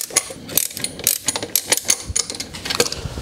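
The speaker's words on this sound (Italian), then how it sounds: "va bene anche un cricchetto perché comunque c'è la testa da 10" A ratchet clicks in short, quick rhythmic bursts as it tightens a 10 mm bolt on a wall bracket for a solar battery storage unit, close and clear with no talking.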